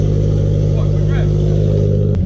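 A Subaru BRZ engine fitted with a Tomei header and front pipe drones loudly and close in the garage, with voices heard over it.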